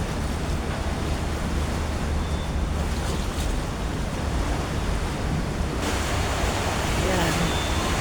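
Steady rushing wash of water and ferry engine rumble while riding a ferry across open water, with wind buffeting the microphone throughout.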